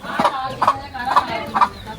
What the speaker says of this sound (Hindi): देखो मुर्गी है, ये छोटे छोटे बच्चे हैं पूरे